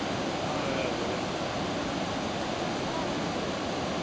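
Steady, dense roar of Iguazu Falls crashing down, a constant broadband rush with spray and no pauses, loud and close.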